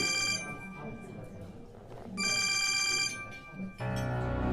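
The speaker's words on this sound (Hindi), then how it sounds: "हमारे बाबा का फोन आ रहा है।" A telephone rings in repeated bursts with short pauses between them, loud and close, over faint background murmur.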